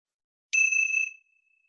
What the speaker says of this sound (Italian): La consapevolezza della transizione segnata dal suono della campana.